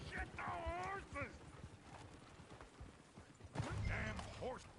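Horses in the Red Dead Redemption 2 video game clop along with hooves, breaking into loud whinnies at the start and again near the end, amid a busy, rumbling game soundscape.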